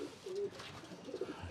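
A racing pigeon coos in a few soft, low rounded calls close by, with faint background noise between them.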